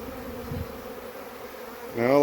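A honey bee swarm being caught into a box gives off a soft, steady buzzing hum, faint and close, before a voice starts speaking right at the end.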